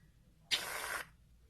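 Bondi Sands Aero tanning foam squirted from an aerosol can, one short close hiss of about half a second, alone in a quiet room.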